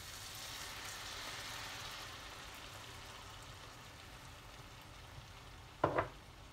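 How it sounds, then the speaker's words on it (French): Sautéed shrimp with a splash of cognac sizzle softly in a pan, a faint, continuous hiss ending with a short clatter near the end. "après avoir fait revenir les crevettes, je rajoute mon verre de cognac à l'intérieur."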